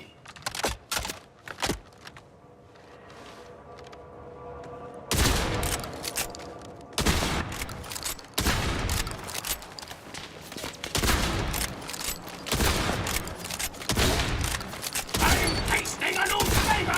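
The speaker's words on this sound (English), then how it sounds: "this Doomslayer incredibly strong shotgun is hitting for 50k headshots" Heavy shotgun blasts from a Doomslayer shotgun in the video game Borderlands 4, loud repeated bursts of gunfire after a quieter opening, firing in rapid clusters with brief gaps and mechanical clicks between volleys.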